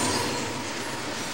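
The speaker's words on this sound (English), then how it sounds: "A train is coming." A train passes a railroad crossing, giving a loud, close, continuous rumble and roar of rolling wheels that fades slightly over the brief moment.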